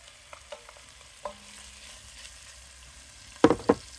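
Vegetables and pancetta frying in a pot over a campfire, a soft continuous sizzle with scattered stirring clicks and a couple of sharp scraping knocks near the end, no talk.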